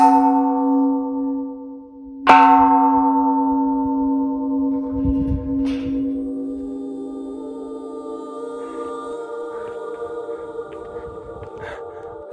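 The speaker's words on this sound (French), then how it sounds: "Voilà la cloche de la déesse Kanon qui nous permet, grâce à ce marteau consacré, d'invoquer la déesse de la miséricorde." A bronze temple bell of the goddess Kanon at Nikko, Japan, struck once with a consecrated wooden hammer, booming loudly and humming in a long, slowly fading resonance, with a couple of faint lighter knocks later on.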